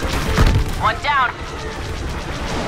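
Starfighter destroyed in a Star Wars Battlefront 2 space battle: a loud explosive boom with a short whining sweep, over continuous engine and battle rumble.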